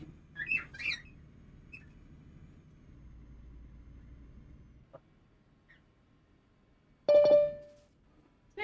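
Pet birds chirp and squawk briefly near the start, then after a low rumbling stretch one loud, sharp whistled call rings out close by, with faint background hum.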